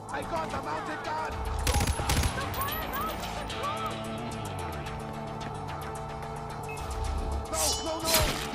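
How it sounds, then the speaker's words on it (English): A mounted gun in Far Cry 4 fires in sharp bursts, with a loud cluster near the start and another toward the end, set against game music and ambient noise, and voices talk in between. "I got a mounted gun!"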